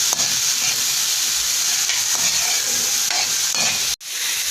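String beans (sitaw) sizzling steadily in a hot pan while being stirred, a loud continuous frying hiss with faint scraping strokes, briefly cut off near the end.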